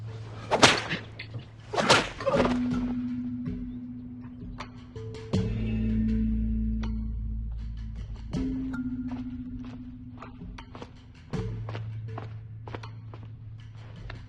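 Two sharp whip cracks ring out near the start, followed by scattered lighter snaps and knocks over a low, steady hum.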